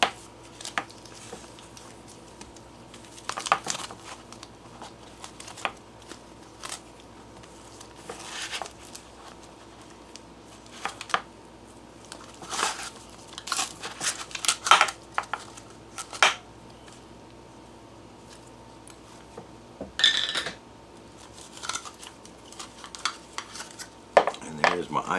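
A spoon scrapes and taps against a dish, popping freeze-dried cinnamon rolls loose in a series of scattered, sharp clinks and knocks with quiet gaps between, a faint voice now and then.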